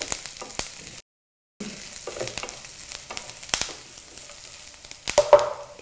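Onions frying in a pan for potato upma curry, a soft crackling sizzle under repeated scraping and knocking of a spoon stirring, close, with a brief dropout early on.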